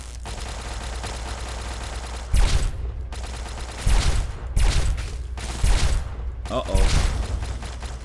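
Automated turrets firing in Fallout 3, a series of loud broadband gunfire bursts a few seconds apart over steady game background noise, with a player's brief spoken exclamation.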